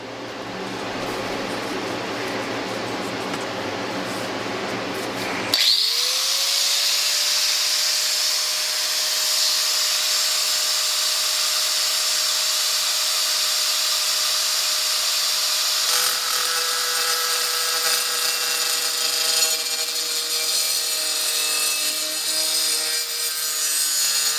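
A power sander fitted with 36 grit sandpaper grinds on a fossil needle fish indoors, starting with a rough scraping rush, then a loud, steady whine that holds for nearly twenty seconds, close and without talking.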